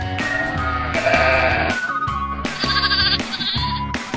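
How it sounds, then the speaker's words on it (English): A Scottish Blackface lamb bleats loudly and repeatedly, with wavering, strongly tonal cries following one another almost without pause, close and clear with no talk. "The Scottish blackface lamb."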